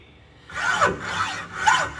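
A hacksaw cuts metal at a filing workbench in about three even back-and-forth strokes, each a raspy scraping swell, heard close up with no speech.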